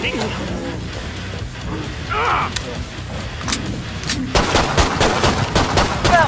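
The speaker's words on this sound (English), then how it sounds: "He's shooting." Gunfire in the video game Killing Floor 2, with repeated sharp shots and bursts that grow denser and louder toward the end, set against a busy game soundscape with voices talking throughout.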